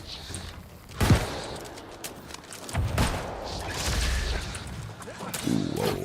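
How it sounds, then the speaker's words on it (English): Gunfire and a grenade blast in the video game New World, loud rolling bursts of shots with a heavy boom, dense and chaotic over game noise. "Hit you with a gun and a grenade."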